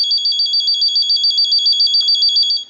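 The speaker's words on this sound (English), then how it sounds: "I'll go ahead and start the ring cycle" A TS22 lineman buttset, repaired and converted, plays its ring cycle: a loud, steady electronic warble that pulses rapidly for nearly three seconds and then stops abruptly.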